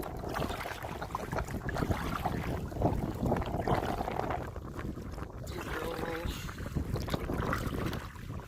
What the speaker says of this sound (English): It's a nice rolling kayak trip.